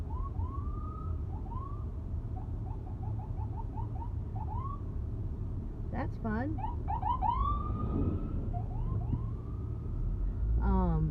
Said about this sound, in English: Where is this ambulance going?